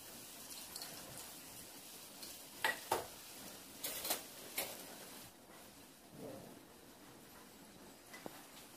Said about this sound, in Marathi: चला आता इथं मी मोदक तळून घेते. तेल आपलं चांगलं गरम झालंय.